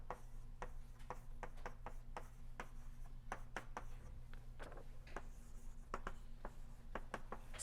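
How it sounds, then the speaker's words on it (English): Chalk or marker writing on a board during a mathematics lecture on fluid equations: rapid, irregular taps and short scratchy strokes, faint over a steady low room hum, with no voice. "So I will write it in the following way."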